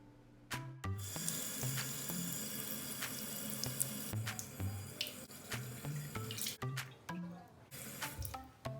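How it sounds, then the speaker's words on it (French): Cold water running from a sink tap and splashing as hands cup it onto a face, irregular close splashes and trickles over a steady flow, with no talking. "Je commence par mouiller mon visage avec de l'eau froide."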